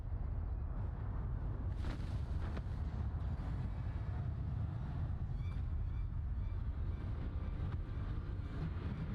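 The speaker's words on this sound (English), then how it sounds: "We're just casually sleeping during cannon fire." Distant cannon fire in Final Fantasy XIV, a low continuous rumble punctuated by a few muffled booms and thuds, heard from indoors at moderate volume.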